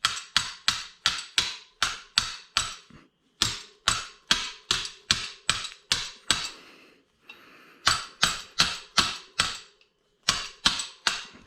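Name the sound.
hammering mountain bike part with back of a tool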